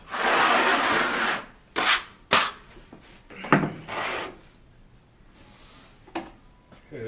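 A trowel scrapes excess thinset off a Schluter Kerdi sheet membrane on a real jobsite. A long, close rasping scrape is followed by several shorter strokes and scuffs, then quieter scraping.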